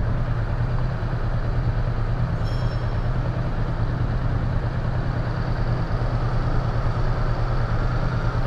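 A motorcycle engine idles at a dealership while the rider gets used to the clutch, giving a loud, continuous low rumble that holds steady and close the whole time.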